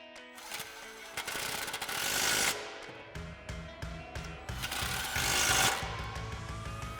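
A hand ratchet with a 13mm socket and extension tightening exhaust clamp bolts on a 2015-2023 Mustang GT, quick rhythmic clicking strokes close and fairly quiet, in short repeated runs.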